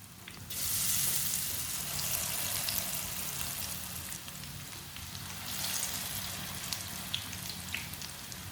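Black chana kebabs fry in hot oil with a steady, close sizzle that swells loudly after the first half second and holds with bright crackling throughout, a few soft pops and drips scattered over the hiss.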